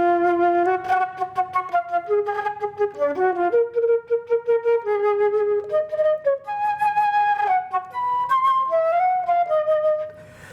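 Solo flute plays an Arabic scale with short, articulated, percussive notes, stepping through the scale in bright, clear tones, loud and close with no other sounds.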